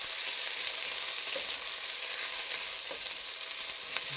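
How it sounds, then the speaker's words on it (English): Garlic and vegetables fry in a pot while being stirred for a fish stew, a steady broadband sizzle with a few soft utensil scrapes, close and even throughout, with no voices. "And you add your garlic in. And I'm just going to stir these around."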